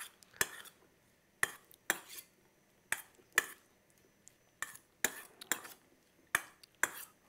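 A smoked paprika dressing is gently mixed with a utensil over Boston lettuce salad with quail eggs, giving a series of light, sharp clinks against the dish in an uneven rhythm, with quiet pauses between them.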